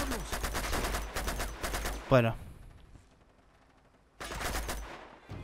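Gunfire in the video game Uncharted 2: rapid bursts of shots up close, a sharp burst mid-way, a quiet gap, then more firing, with someone talking briefly.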